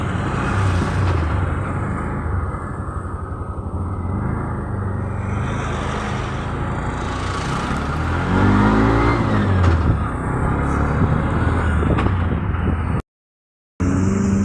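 A car engine in slow traffic, a continuous mid-range rumble with a rise in revving partway through, heard close and steady, then a brief dropout near the end.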